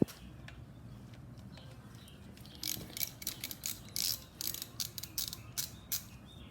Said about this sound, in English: we're going to loosen the clamping nut on the lower triple tree